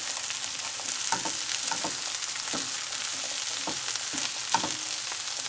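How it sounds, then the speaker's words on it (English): Beans stirred into a sizzling vegetable mixture for a vegetarian dried-bean dish, with a steady frying hiss and repeated utensil scrapes and taps at an irregular rhythm, close and fairly loud, with no voices. "just a couple of spoons of my beans, and give them a stir fry as well."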